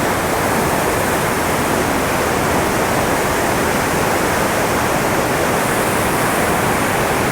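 Loud, steady rushing of fast-flowing water, a continuous broad roar with no pauses.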